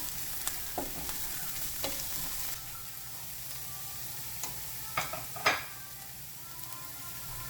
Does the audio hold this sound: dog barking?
no